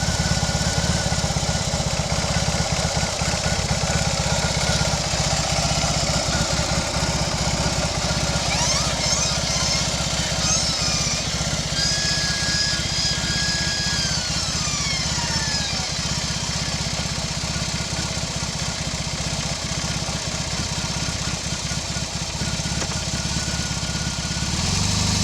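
A BMW R 18 Roctane motorcycle engine runs steadily at idle after being started, a loud, constant low rumble close by that continues unchanged throughout.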